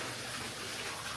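Hot spring water pours steadily into a private outdoor onsen bath in Kagoshima, Japan, falling over small rocks in a continuous soft rushing splash with no voices.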